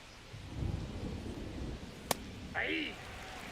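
Low thunder rumbles through a rainy evening in Baltimore, a long moderate roll that swells and fades, with faint background chatter and a brief sharp click near the end.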